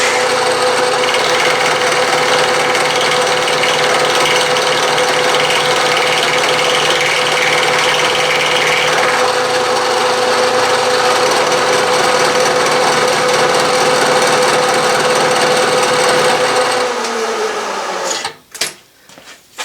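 Metal machining of a chamfer on a part for the Yellow Boy steam engine, a steady grinding cutting drone that shifts tone midway, then winds down and ends with a few sharp clanks.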